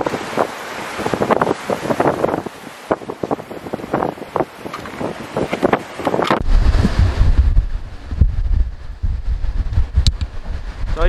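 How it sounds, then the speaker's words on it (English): Strong wind batters an unshielded camera microphone on a seaside morning bike outing in Puerto del Carmen, Lanzarote, producing loud, continuous buffeting rumble with gusty surges throughout. "The wind is too strong"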